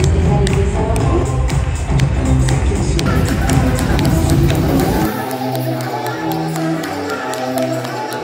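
A dense wash of crowd applause at a children's Latin ballroom dance competition, with scattered claps and shuffling, steady throughout and thinning slightly toward the end.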